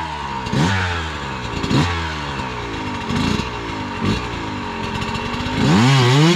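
An enduro motorcycle engine revs hard and unevenly on a climb, its loud, raspy note surging and dropping in repeated bursts before rising sharply at the end.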